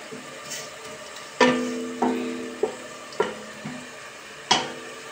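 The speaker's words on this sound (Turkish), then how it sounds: "Aynı kepçeyle karıştırıyorum." A ladle scrapes and knocks against a pot while stirring spinach and onions, producing about six distinct clanks spaced roughly a second apart over a soft background sizzle, close and moderately loud.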